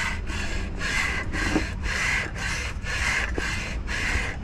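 Sandpaper rubbed by hand over a warped Nissan TD27 engine block in a Nissan Urvan, a steady rasping scrape repeated in even back-and-forth strokes about twice a second, close and alone.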